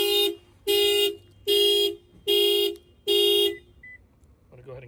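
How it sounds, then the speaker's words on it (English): A 2020 Toyota Corolla's factory car alarm sounds, five loud, evenly spaced horn blasts of about half a second each, close up, followed by a short faint beep. "I'm gonna go ahead and bang on it, and you'll see the factory alarm will fire off."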